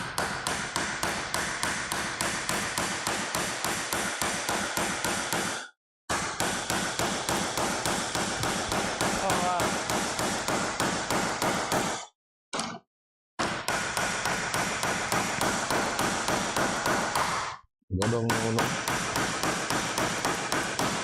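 Rapid, repeated tapping knocks as something hard is knocked in with a pair of scissors, steady bursts of clicks broken by a few brief pauses, close up.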